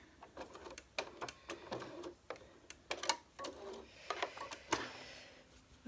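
A sewing machine back stitches a bound fabric edge in quick, uneven bursts of ticking stitches, close but quiet, with short gaps between runs.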